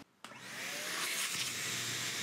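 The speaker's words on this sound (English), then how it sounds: "The first step to detailing these seats are to vacuum out the material as much as you can." A vacuum cleaner runs steadily on the worn fabric seat upholstery of a 30-year-old truck during interior detailing, starting abruptly after a brief quiet moment and then holding a loud, continuous whine close by.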